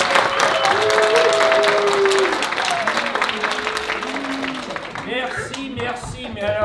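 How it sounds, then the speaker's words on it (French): A live audience at a stage show bursts into sustained applause, a dense wash of clapping that gradually thins, while a voice speaks over it and a few tonal sounds rise above the crowd. "Applaudissez-le, s'il vous plaît."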